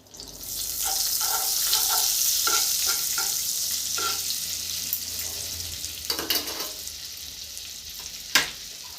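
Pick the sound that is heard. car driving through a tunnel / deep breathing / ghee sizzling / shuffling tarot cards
ghee sizzling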